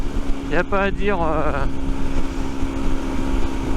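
A Rieju Century 125 motorcycle accelerating at full throttle, its engine running as a steady, loud roar throughout, with a rising whine early on, while someone talks briefly over it near the start.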